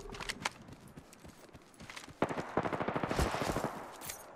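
Gunfire in the tactical shooter game Mirage: rapid bursts of automatic fire crackle in quick rhythmic runs, growing denser and louder toward the end, with scattered single shots and thumps earlier on.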